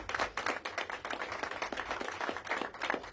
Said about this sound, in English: give Dr. Eddington another big round of applause